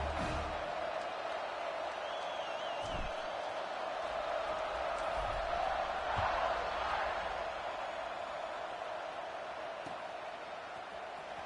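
A steady, broad crowd roar fills a stadium in an American football video game, sustained cheering with a few faint whoops and thumps throughout at a moderate distance.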